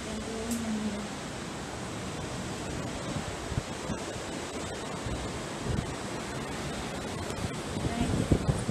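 Sea waves heard through an open hotel room door, a loud, steady broadband roar of surf that rises and falls slightly, heard without speech.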